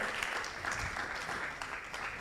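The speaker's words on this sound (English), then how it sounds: "Please, let's clap for him as well." Moderate, even audience applause at an agribusiness finance forum, a steady wash of clapping lasting a couple of seconds with no talk over it.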